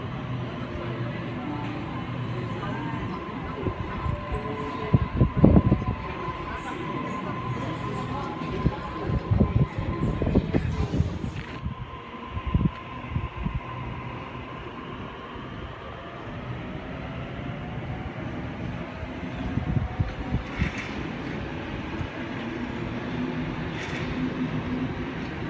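A Sydney Trains service pulls into a platform at Eastwood station, a low rumbling approach with metallic clatter and squeal rising mid-clip, over steady station ambience and occasional voices.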